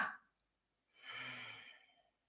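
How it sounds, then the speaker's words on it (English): A single exhale through the nose during a breathing exercise, a soft, close breathy rush lasting about a second after a brief faint sound, in an otherwise quiet room. "And then you breathe out through your nose."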